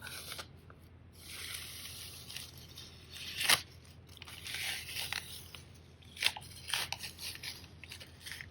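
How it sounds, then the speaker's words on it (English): Tape being peeled off watercolor paper, quiet crackling and tearing rasps in several short pulls with sharper snaps between, close and faint against a soft background hiss. "I'm gonna peel up my tape"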